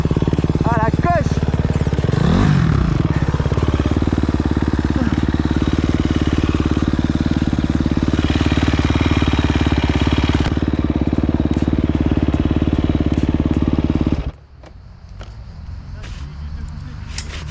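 A motorcycle engine runs loud and close at a steady idle-like drone with a rhythmic throb. A voice speaks briefly over it before the engine cuts off abruptly, leaving a quieter background.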